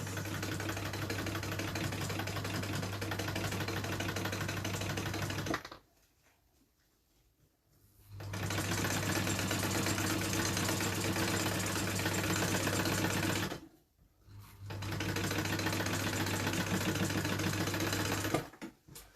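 A sewing machine stitches a bag seam in three sustained bursts, a steady whirring hum with a constant low drone, broken by two short pauses of near silence; close and alone, with no talking.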